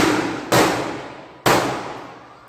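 Firecrackers bursting outdoors on New Year's, two loud sharp bangs about a second apart, each trailing off in a long echoing decay, with no talking.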